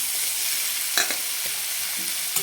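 Washed prawns frying with softened tomatoes in a pan, a close steady hiss of sizzling broken by a few sharp spatula stirs and scrapes.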